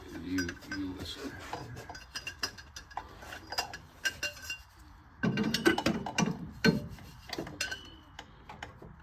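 Metal-to-metal knocking from a running American Motors car engine: faint, irregular ticking and clinking taps over a low engine hum, with a denser, louder cluster of metallic clatter partway through.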